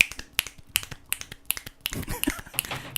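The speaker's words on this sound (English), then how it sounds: "he's clicking his fingers and clapping at the same time in constant motion" A person rapidly clicking his fingers and clapping at once in constant motion, producing a quick run of crisp, sharp snaps and claps in uneven rhythm, close and fairly loud.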